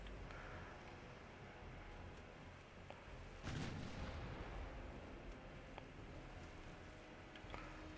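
Warship broadside gunfire in the naval game Ultimate Admiral Dreadnoughts: a faint rumbling bed punctuated by one heavier distant boom midway and a few scattered sharp cracks, all quiet and far-sounding with no talk.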